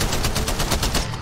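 Free Fire automatic rifle fire, one loud rapid burst of evenly spaced shots lasting just over a second, close and alone.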